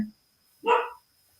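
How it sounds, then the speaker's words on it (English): A single short dog bark sounds indoors, moderately close, preceded by a brief fragment of voice and surrounded by quiet. "I'm sorry if you can hear my dog barking."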